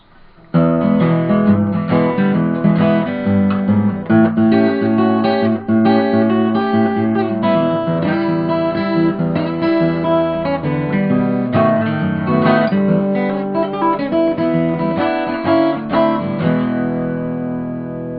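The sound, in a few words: acoustic fingerstyle blues guitar break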